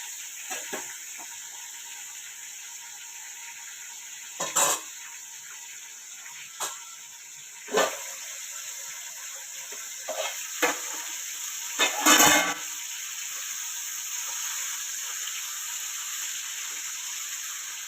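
Large tomatoes fry in hot oil with a steady, bright sizzle throughout, broken by several louder bursts of spattering and stirring scrapes close by, with no talking.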